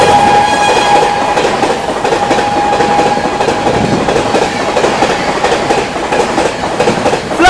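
The New Delhi–Ranchi Rajdhani Express overtakes at full speed, around 130, with a loud steady rush of wheels and clickety-clack rhythm close by, a faint whine and squeal riding over the roar.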